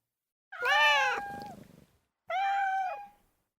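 Black cats meow twice, close and clear, a long drawn-out call followed after a pause by a shorter one, with no talking.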